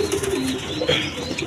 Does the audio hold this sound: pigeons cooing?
yes